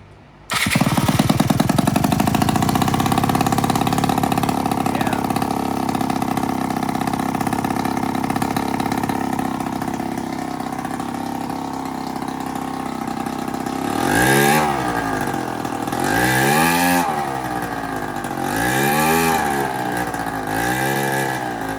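A scooter engine fires up abruptly and settles into a steady, loud idle, then gets several revving bursts toward the end, close by with no voices.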